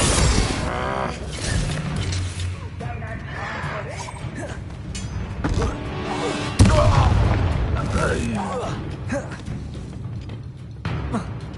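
Confringo spell blasts in the Hogwarts Legacy video game boom and crash amid busy combat effects, with one sharp loud burst near the middle, while a voice shouts spell names over the noise.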